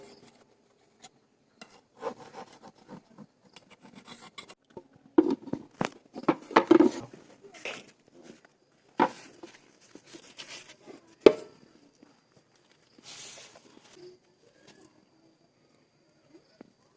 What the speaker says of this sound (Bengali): সাইডে যে কেকগুলো একটু শক্ত হয়ে গেছে সেইগুলোকে এইভাবে চাকু দিয়ে কেটে বাদ দেবো।